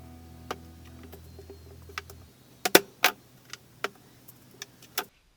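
A car driveshaft from a VP Commodore is pulled apart on the bench, giving a scattered series of sharp metallic clicks and clinks over a low rumble that stops partway through, ending with a final clack.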